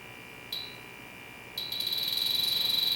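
A Bacharach H10 Pro refrigerant leak detector sounds a high electronic tone that briefly chirps once, then rises into a rapid, continuous pulsing alarm, close and clear with no talking.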